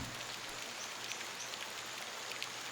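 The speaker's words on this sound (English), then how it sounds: "A little water won't hurt you, Mouse. Besides, you'll miss the rain when you get to Yonma" Steady rain falls in a continuous soft hiss of drops hitting a surface, even and unbroken throughout with no other sounds standing out.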